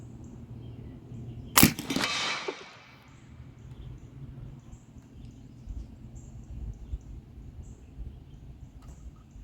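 An AEA Challenger .457 caliber air rifle fires a single sharp, loud crack at a metal target, followed by a brief decaying ring and then quiet ambient background.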